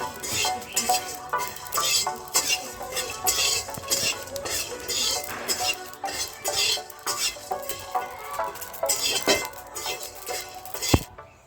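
Cumin and chillies dry roasting in a pan, with uneven bursts of scraping, stirring and metal clinks from a spatula, close and moderately loud, ending in a sharp knock.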